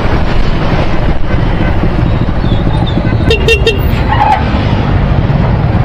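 A motorcycle engine revving hard and steady at high RPM, loud and close, with a brief horn-like toot in the middle.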